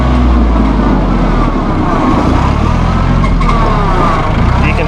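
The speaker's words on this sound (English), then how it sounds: "if you want to go faster, you can just push the pedal down and you can hear that engine rev." A 2011 Massey Ferguson 1635 hydrostat compact tractor engine roars loudly and close as the pedal is pushed down, a steady heavy rumbling drone with no pauses.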